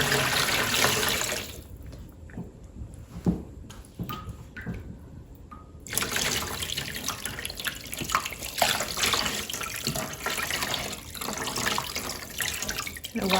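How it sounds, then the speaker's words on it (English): Plain water runs from a kitchen tap into a pot, a steady loud rushing stream that briefly lowers and then resumes strongly, continuous throughout. "So now I'm just going to add just some plain water."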